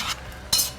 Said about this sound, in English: take that spoon, and just give it a gentle stir to kind of mix it up